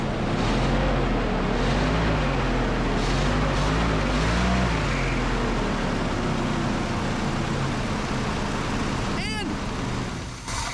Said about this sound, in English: it's got a squeaky belt, which is probably that water pump going out